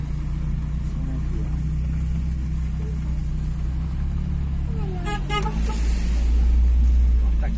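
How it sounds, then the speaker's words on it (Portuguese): A car approaches and passes close by on a road near the Serrinha dam in Serra Talhada, Pernambuco, its engine rumble swelling over steady background noise, with a brief horn-like toot in the middle. "Vem um carro aqui."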